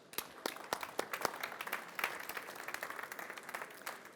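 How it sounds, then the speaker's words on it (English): A trade show conference audience applauds for a presenter, with a steady stream of fairly close, individually audible hand claps continuing throughout with no talking. "So round of applause to Francesco,"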